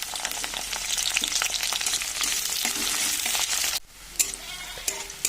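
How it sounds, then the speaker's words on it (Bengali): Chopped onion hits hot mustard oil in a kadai, a loud, dense sizzle that crackles for about four seconds before dropping sharply, followed by scattered quieter spits and stirring clinks. "তেল গরম হয়ে গেছে, দিয়ে দিচ্ছি এর মধ্যে পেঁয়াজ কুচি।"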